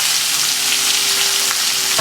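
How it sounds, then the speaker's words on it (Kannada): Urad dal, chana dal, split green chili and curry leaves frying in hot oil for a Kannada capsicum rice, a steady close, loud crackling sizzle throughout with no voices. "ಉದ್ದಿನಬೇಳೆ ಕಡಲೆಬೇಳೆ ಹೊಂಬಣ್ಣ ಬರುವಷ್ಟು ಹುರಿರಿ"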